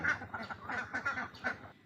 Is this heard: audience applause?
no